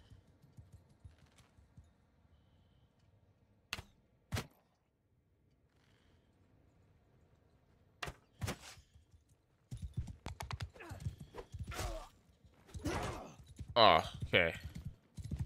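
Horse hooves clip-clop in Mount & Blade II: Bannerlord, sparse at first and then quickening into a steady patter, with a voice speaking briefly over the hoofbeats.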